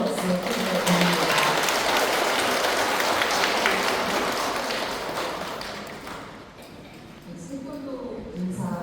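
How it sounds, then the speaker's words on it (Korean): Applause of thanks from a congregation at a Sunday Won Buddhist service, a dense, steady patter of many hands that tapers off near the end as a voice resumes over it. "감사의 박수 부탁드립니다"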